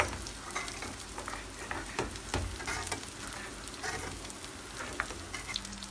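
Künefe frying in melted butter in a pan, giving a steady close sizzle with crackling pops and occasional stirring or scraping sounds, no talk over it.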